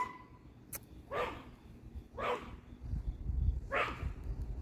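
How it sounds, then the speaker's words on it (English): A dog barks three times in spaced, fairly close woofs outdoors, each bark rising sharply then fading, with light background noise between them and no talking. "Sorry, my dog's barking."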